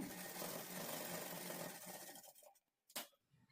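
Sewing machine stitching puff sleeve pieces at a quarter-inch seam margin, a dense steady whir that runs for about two seconds, then stops, followed by a short sharp sound.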